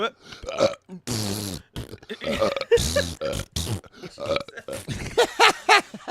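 Several loud, drawn-out burps come one after another at close range during a comedy set, some deep and croaking, with short pauses between them.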